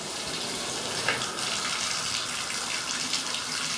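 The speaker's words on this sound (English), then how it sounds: "Most of the water is running out here." Water running from a condo shower with a diverter that does not divert fully, heard as a steady, close hiss of spraying and gushing water.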